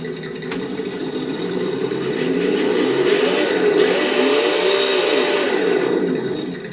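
A simulated engine hum from an ESS Dual sound module fitted to a Traxxas TRX4 RC truck, idling steadily then rising and falling in pitch as if revving, close by.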